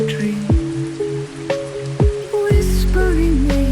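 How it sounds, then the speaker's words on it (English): Rain patters steadily against window glass in a soft, continuous wash, heard beneath gentle sustained musical tones and occasional sliding notes. "Whispering rain on the glass, a soft lullaby so past."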